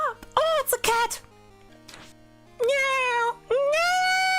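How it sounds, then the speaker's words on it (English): Several drawn-out, rising and falling meows from a cat, close and loud, in quick bunches with short pauses between them. "Oh, it's a cat!"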